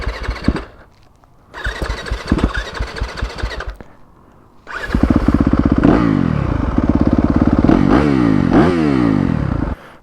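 A 2021 Yamaha YZ250FX dirt bike cranks and sputters in a short burst, falls nearly quiet, then catches and runs loud and close with rising and falling revs.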